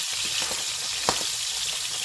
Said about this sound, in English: So what we're going to do now is flip our salmon over.